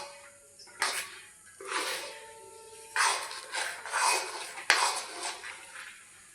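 A spoon scrapes and stirs a semolina and milk sweet with ghee and cardamom in a pan over low heat, giving several bursts of close scraping and clinking separated by short pauses, with no talking.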